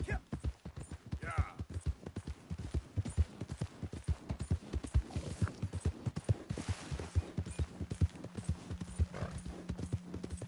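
Horse hooves clip-clop in a steady, brisk rhythm throughout in the video game Red Dead Redemption 2, close and clear, with a few louder hits along the way.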